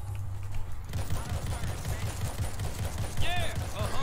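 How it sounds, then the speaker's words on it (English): Rapid video game gunfire mowing down a horde of zombies in World War Z, a dense continuous stream of shots under people chatting. "It's kind of fun to just shoot a giant group of them like this."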